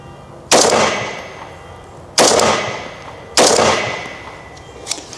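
Three AR-15 rifle shots fired at a 20-yard target, each a loud, sharp crack with a ringing decay, spaced about one to two seconds apart with no talking.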